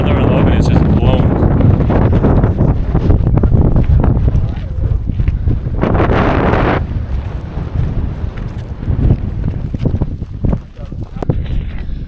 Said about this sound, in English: Yo, it's so fucking windy.